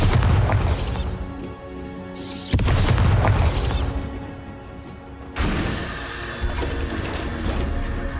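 Bombarda blast spell in Hogwarts Legacy, loud booming bursts layered with grinding mechanical, ratchet-like game effects, one strong impact midway followed by a lingering rumble.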